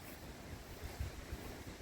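Rough sea at Saltrød-Hove surges against the shore under gusting wind, a continuous, broadband wash with low rumbling thumps of waves breaking close by and wind buffeting the microphone.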